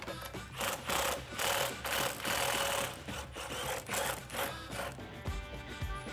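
An 18 mm socket turns off the strut top nut while the spring is held compressed, during a KW height-adjustable lowering spring install on a 2012-2019 Challenger. Close, rhythmic bursts of ratcheting repeat steadily, with brief pauses between strokes.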